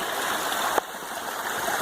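A creek flows right beside a hiking trail on the Eagle Creek route to Wahtum Lake, a loud, steady rushing stream heard up close with no talk.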